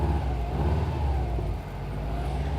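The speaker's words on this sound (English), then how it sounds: "Give it a few revs and blips." A Subaru WRX engine with a hesitation problem idles steadily and revs up a little, a continuous close mechanical drone with a rising whine and no talking.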